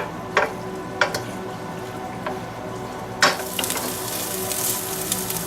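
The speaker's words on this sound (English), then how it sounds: "You're going to want to put some olive oil in your pan. Now you're going to want to stir constantly until it is browned." Onions and garlic frying in olive oil in a pan, a steady sizzle with a few sharp clinks of stirring, growing louder and brighter near the end.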